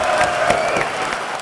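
Members of a legislative chamber cheer and applaud as an official leaves, a dense, steady burst of clapping with scattered voices, loud and close throughout.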